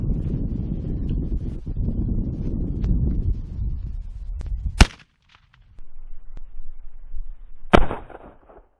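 A muzzleloader rifle being sighted in for an Arizona Coues deer hunt fires a single sharp, loud shot outdoors amid wind noise, followed later by a second sharp crack.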